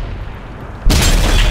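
A loud, sudden tank cannon blast from an M103 in World of Tanks on PS4 erupts after a moment of quiet rumble, followed by a sustained roaring boom.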